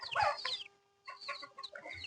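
A rooster clucks nearby in a short burst, pauses, then makes a few softer clucking calls; no talking.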